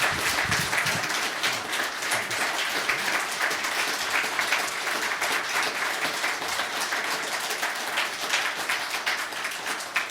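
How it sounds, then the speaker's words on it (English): A room full of people applauds two city council candidates at the close of a District 3 debate, a steady wash of many hands clapping at even loudness for about ten seconds with no speech over it. "if all you would please give our two candidates a round of applause for all the work they put into tonight"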